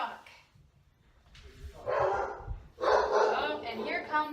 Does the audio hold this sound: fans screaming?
no